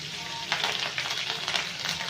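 Dried red chillies and curry leaves fry in hot oil for a tempering for gongura chutney, giving a close, crackling sizzle with sharp spitting bursts and no talk.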